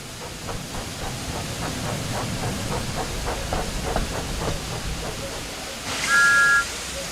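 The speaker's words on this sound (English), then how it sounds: "Thomas likes whistling cheekily at him." Thomas the tank engine in the train sim game Thomas and Friends: Wonders of Sodor chuffs with a steady steam rhythm, then gives a short, bright whistle toot near the end.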